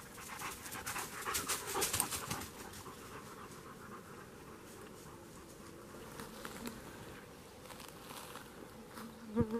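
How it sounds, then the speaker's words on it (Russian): Bees hum in an old garden by a forest at evening, a faint, continuous buzzing with a dog panting close by and light rustling steps, no talk. "Пчелки гудут."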